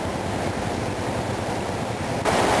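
Daranak Falls, a waterfall, pours as a dense continuous rush of water that fills the air, loud and steady, with no talking.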